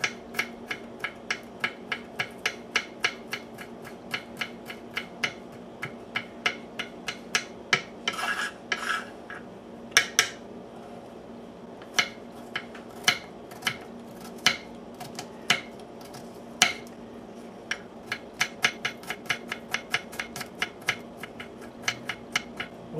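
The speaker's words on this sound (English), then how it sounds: "And mince up the garlic pretty finely." A knife finely mincing garlic on a cutting board, a fast run of sharp, evenly spaced chops up close, with a brief scraping pause partway through and no talk.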